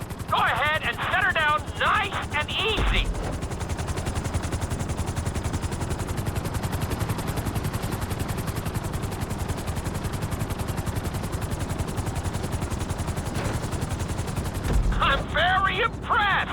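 In Grand Theft Auto V flight school, a helicopter's rotor beats in a rapid, steady chop that runs the whole time, loud and close. Brief speech-like bursts come at the start and end.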